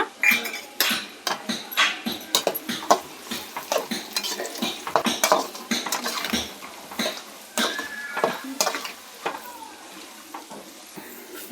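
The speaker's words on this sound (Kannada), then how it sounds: "ಈಗ ಉದ್ದಿನ ಬೇಳೆ ಕಡಲೆ ಬೇಳೆನ ಆ್ಯಡ್ ಮಾಡ್ಕೊಳ್ಳೋಣ" Urad dal and chana dal go into a pan and get stirred, a busy run of scraping, clinking spoon-on-metal taps and light rattling of the dry lentils with a faint sizzle underneath.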